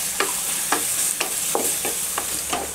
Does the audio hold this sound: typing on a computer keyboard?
no